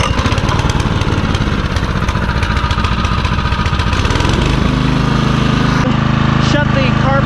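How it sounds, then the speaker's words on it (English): A lawn mower's small engine runs steadily up close with a loud, even chug, then its pitch drops and shifts as the engine changes speed, with a person talking over it. "we're going to start the engine, let it run for 5 minutes"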